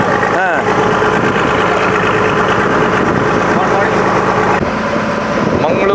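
Fishing boat engine running steadily as the vessel leaves Mangaluru port, a continuous idling drone throughout with a voice speaking over it.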